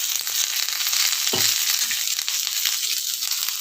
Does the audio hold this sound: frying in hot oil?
yes